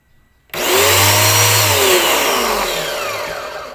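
A cheap electric pressure washer switches on abruptly after a quiet moment and runs with a loud, high motor whine that slowly sags in pitch, close by and with no one talking.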